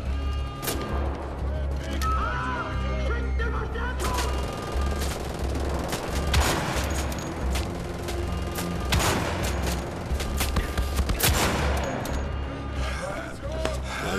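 Rifle fire in the shooter Wolfenstein: The Old Blood, repeated sharp cracks at irregular intervals over a steady low game rumble, fairly loud and close, mixed with other game effects.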